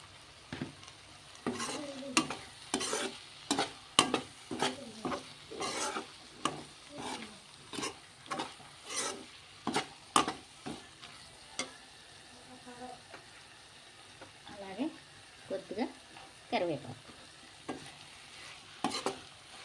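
Chili powder and spices frying in a pan for an okra and prawn dish, heard as a quiet sizzle under repeated rhythmic scraping strokes of a spatula, coming in bursts with short pauses.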